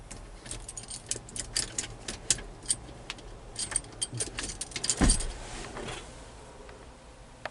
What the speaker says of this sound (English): Ooh, alright, keys.